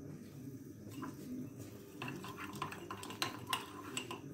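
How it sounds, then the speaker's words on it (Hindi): A spoon beats a thick mixture in a bowl, giving soft repeated scraping and sharper clinks that grow busier toward the end. The sound is close and moderate, with faint background noise. "इसी के साथ हम स्पून की हेल्प से इसको बीट करते जाएंगे"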